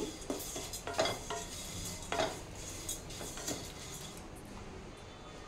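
Flattened rice (poha) roasting in ghee over a low flame in a pan, with several close scraping and clinking stirs of a utensil over a soft background hiss, busier at first and quieter later.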